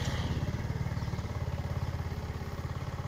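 A fuel-injected RKS Darkblue 125 motorcycle idles close by with an even, rapid thumping pulse that holds steady throughout, and no one speaks.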